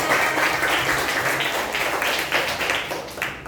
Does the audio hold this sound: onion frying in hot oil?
no